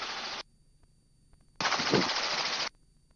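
Machine-gun bursts ring out during a helicopter hog hunt over an alfalfa field: a short rapid burst, a pause, then a longer sustained volley, loud and close with no talk.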